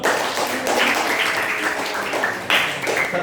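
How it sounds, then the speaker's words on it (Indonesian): An audience at a school quiz competition final claps together, a dense burst of applause that swells and surges again midway, steady throughout with no voices standing out. "Tepuk tangan dulu."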